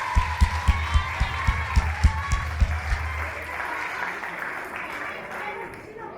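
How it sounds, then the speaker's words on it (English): An audience at an Egyptian educational and cultural exchange program event applauds. A steady, rhythmic beat of strong claps runs for the first three seconds, then loosens into a softer wash of clapping that fades toward the end. "Please, a round of applause."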